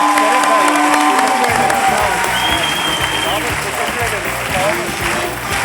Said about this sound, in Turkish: Alkışlar yarenlerimize gelsin